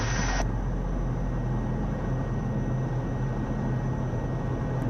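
A 2018 Cirrus Vision SF50 jet at takeoff rotation, heard as a loud, steady roar of engine and airflow inside the cabin, continuous and unbroken throughout.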